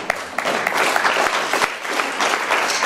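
A theatre audience applauds after a performance as the actress takes her bows, close and loud, with dense clapping and a few sharp, distinct claps standing out in the sustained applause.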